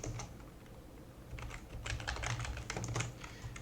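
Steady typing on a computer keyboard, a dense run of close, crisp key clicks that quickens and grows louder partway through, with no voices.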